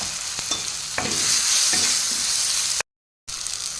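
Ground spice paste goes into tomatoes frying with salt and chilli powder, a loud, bright sizzle that swells as it is stirred, with a few scraping knocks, cut by a brief total silence near the end.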